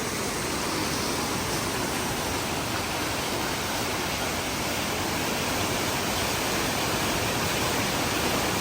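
Rough Butt Creek Falls in Jackson County, North Carolina, running high after a storm, a steady, loud, unbroken roar of rushing water close at hand with no other sounds.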